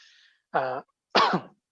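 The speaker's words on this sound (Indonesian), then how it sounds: "mohon maaf saya masih agak ada batuk ya" Two short bursts of throat clearing and coughing from a man giving an Islamic religious lecture, one raspy, voiced throat clear followed by a harsher cough, both close and alone against silence.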